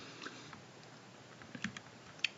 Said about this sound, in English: I will just type in wage